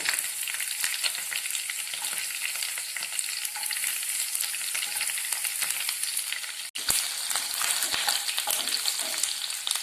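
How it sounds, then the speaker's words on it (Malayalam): Chopped garlic, ginger and curry leaves sautéing in hot oil in a pan for a Kerala kanthari white pickle, a steady close crackling sizzle with stirring scrapes, one brief dip near the end, no talk. "വെളുത്തുള്ളി, ഇഞ്ചി അരിഞ്ഞു വെച്ചത് ഇവയിട്ട് നന്നായി വഴറ്റുക."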